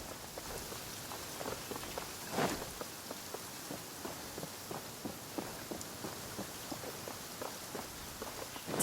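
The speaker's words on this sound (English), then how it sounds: "Taking a stroll in the middle of a downpour certainly rouses the spirit." Steady rain downpour in Genshin Impact, a dense hiss of drops on surfaces with a regular patter of footsteps running through it, no voices.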